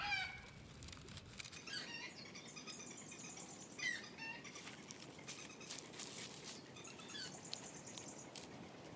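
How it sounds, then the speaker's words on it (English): Chickens cluck and squawk in scattered bursts at a distance, fairly faint, with a few sharper calls standing out over a quiet outdoor background. "I think you can hear my little chickens are not real happy with these strangers roaming around back here"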